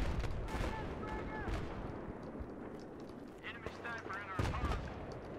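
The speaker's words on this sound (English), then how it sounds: "See all those tracer rounds just popping through there." Battlefield 3 gunfire with tracer rounds, dense overlapping shots and bursts in a busy game battle, a steady loud crackle with a few sharper blasts near the end.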